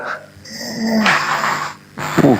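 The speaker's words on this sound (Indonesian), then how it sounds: "Udah ngorok." A man asleep while hooked to an IV drip snores in long raspy breaths, a steady rumbling inhale followed by a rougher snort, close and fairly loud.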